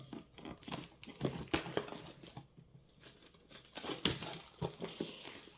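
Pokémon Elite Trainer Box packaging is opened up close, with repeated crinkling and tearing of plastic wrap and cardboard in uneven bursts, fairly quiet throughout.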